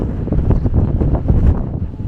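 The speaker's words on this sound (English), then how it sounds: "Here is very windy" Strong wind gusts buffet the microphone on the front deck of a ship at sea, a loud low rumbling roar with fluttering bursts and no voices.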